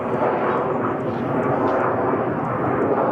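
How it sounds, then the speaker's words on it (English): An airplane flies overhead with a steady, loud, broad roar that fills the whole stretch without a break. "Wait for this plane."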